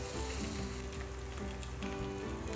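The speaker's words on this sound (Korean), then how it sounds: "그리고 팬을 달구어서 굽도록 하겠습니다" Busan-style jijimi pancake sizzles and crackles in a heated pan, a close, continuous frying hiss with no talking.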